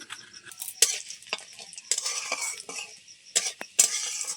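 Lentil dal with turmeric and a spice tempering stirred in a pot during a Sundarbans village cooking session, giving repeated close scraping strokes over a steady sizzle, with sharp clinks of the spoon against the pot.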